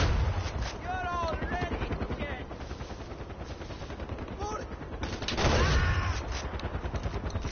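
Sustained automatic weapon fire in Far Cry 4, rapid, rhythmic shots running throughout with a louder swell partway, and someone talking over the firing.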